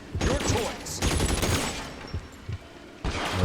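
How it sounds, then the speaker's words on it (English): Bursts of gunfire ring out in a firefight in the detective game L.A. Noire, with rapid volleys at the start and around the one-second mark, then scattered single shots, all fairly loud and close. "Wasn't quite expecting open fire."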